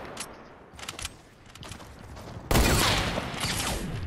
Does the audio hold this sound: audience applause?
no